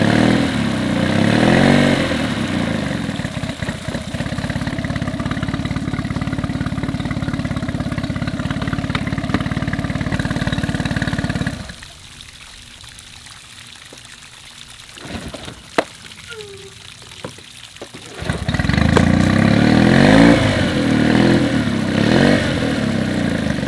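Boat outboard engine running steadily after a spark plug boot fix, a loud continuous mid-pitched drone that drops away for several seconds near the middle, then returns at full strength.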